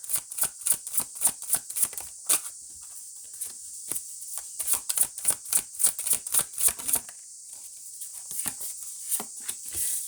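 Tarot cards are shuffled and drawn in a quick run of crisp, snapping clicks with brief pauses between bursts, close and fairly loud. No one talks.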